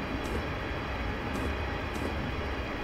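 A cargo train rolling past in Train Simulator 2015 on a West Coast Main Line route, a steady loud rumble of wagons with a continuous broadband roar and faint periodic high hiss.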